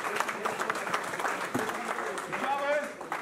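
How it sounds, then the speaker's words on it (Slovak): Guests clap through a wedding celebration, a dense patter of applause running the whole time beneath loud overlapping talk and voices. "Potlesk."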